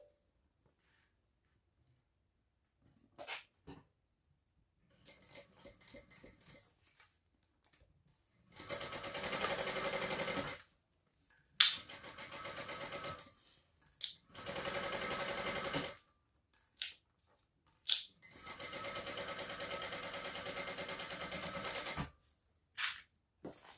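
Sewing machine basting a zipper panel onto bag lining at a 1/8 inch seam, several bursts of rapid whirring stitching separated by silent pauses and small clicks and handling noises.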